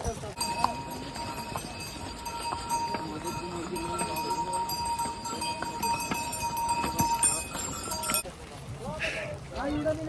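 Horse hooves clopping on a wet stone trail on the Kedarnath trek, a steady irregular clatter close by beneath a voice and background noise.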